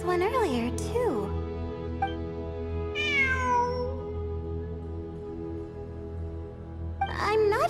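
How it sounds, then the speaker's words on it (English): A cat in Genshin Impact meows three times, with rising and falling wavering cries at the start, middle and end, over a steady low game-music drone. "It really is a cat."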